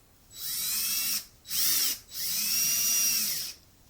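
A power drill drives screws into the back of a painting, three close high-pitched whirring bursts, the second short, with brief pauses between and no talk.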